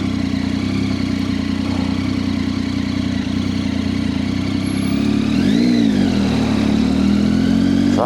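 Motorcycle engine droning steadily while riding through the Lake District near Ambleside, a low constant hum with wind rush, rising briefly in pitch as the bike revs and then settling back, close and loud throughout.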